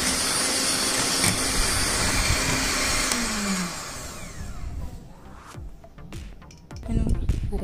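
An electric mixer beats cake batter with vanilla essence for a white forest cake, a loud, steady whirring drone that cuts off partway through, followed by a few sharp clicks and knocks of handling.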